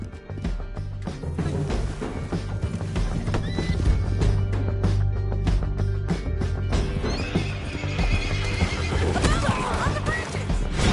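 Red Dead Redemption 2 gameplay: a horse neighs loudly and hooves clip-clop at a steady run through a canyon, with game music, bursts of action and voices running underneath throughout.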